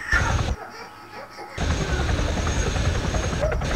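Military helicopter lifting off in the video game Arma 3, a loud continuous rotor and engine roar with a brief dip early on before the full thrum returns, steady and close.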